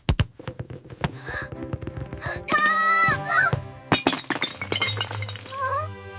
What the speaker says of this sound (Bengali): আমার প্রিয় ফুলদানিটা কে ভাঙলো?